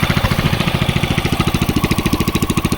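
A rock mower engine idles in neutral while having mechanical problems, giving a steady, rapid, evenly pulsing chug that stays close and loud throughout with no talking.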